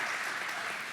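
Audience applause at a transportation technology showcase panel: brief, faint, steady clapping from a seated crowd, heard at low level throughout.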